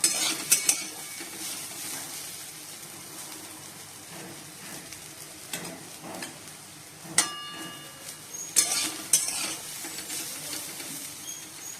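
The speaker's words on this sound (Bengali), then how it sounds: "তেলটা গরম হয়ে গেছে, এবার আলুগুলো ভেজে দেবো।" Potatoes fry in hot oil, sizzling steadily in a pan with a soft crackling hiss, broken by several sharp clinks and scrapes of a utensil stirring against metal.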